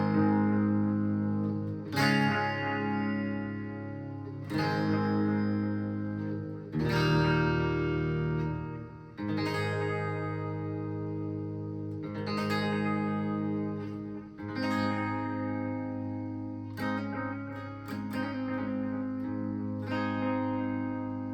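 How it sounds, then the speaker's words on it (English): An electric guitar plays through a Maestro Discoverer analog delay pedal, strummed chords ringing out at steady intervals with dark, smeared repeats trailing behind each strike, loud and close with no talking. "This is an analog delay pedal."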